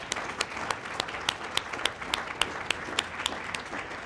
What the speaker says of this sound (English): You deserve a round of applause for all of your hard work.